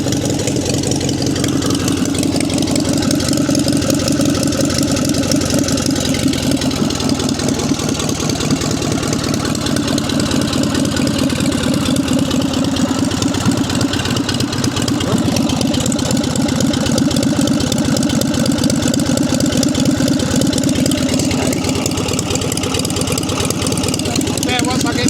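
An ex-military 1946 JAP 55 engine runs steadily with a continuous throbbing, mid-pitched putter, loud and close, holding a fairly even note throughout.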